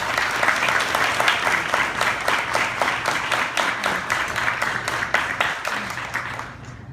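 Warm audience applause welcoming a speaker at a college stigma-awareness event, steady close clapping from a modest crowd that holds evenly and then fades out at the end.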